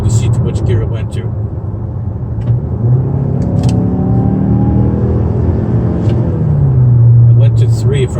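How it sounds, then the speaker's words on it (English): A 2019 Mazda CX-5 engine accelerating hard, a steady low rumble with rising harmonic tones as revs climb, then a gear change near the end; loud and continuous from inside the cabin, with no talk over it. "I'm gonna gun it"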